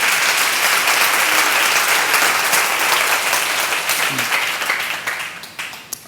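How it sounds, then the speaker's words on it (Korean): A church seminar audience bursts into loud, dense applause that holds steady and then thins to a few scattered claps before fading out. "박수로 한번 드리세요."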